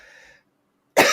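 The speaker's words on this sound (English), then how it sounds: "oh man, my cough." A man gives a sudden, loud, close cough after a brief stretch of silence, following a faint trailing sound.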